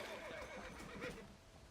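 A horse in the video game Red Dead Redemption whinnies faintly amid low ambient noise, a brief neigh with soft hoof clops, distant and quiet.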